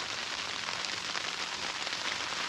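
Rain falling at a campsite during a downpour, a dense, steady hiss of drops on surfaces that stays even and close throughout, with no voices.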